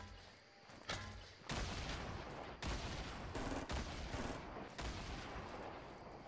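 Heavy gunfire in a Fortnite match: dense bursts of shots and booms start after a brief lull and keep going loud and close, with several sharper blasts landing within the barrage.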